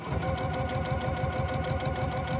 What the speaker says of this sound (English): So now let's go ahead and sew this down.